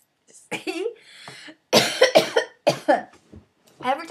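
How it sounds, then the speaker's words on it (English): Someone gives several harsh coughs in short bursts close to the microphone, spaced by brief pauses, after a few drinks at a bar. "Every time I try and hold it in, it just makes me cough."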